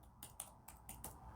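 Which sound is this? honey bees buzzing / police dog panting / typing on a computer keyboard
typing on a computer keyboard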